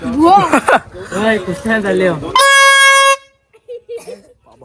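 A loud vehicle horn blares in one sustained honk at a festival, heard just after a stretch of lively talk, with faint voices continuing as it stops.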